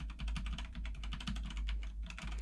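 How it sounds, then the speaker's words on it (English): Fast, heavy typing on a keyboard, a dense run of clicking keystrokes with a few harder key hits, close and steady, no voices. "Now I'm going to do a little bit more of a heavier typing"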